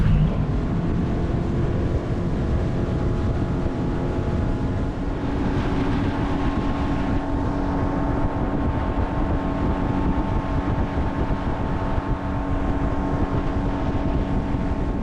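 A fishing boat motors up the Brisbane River, a constant loud outboard drone with wind buffeting the microphone and no speech.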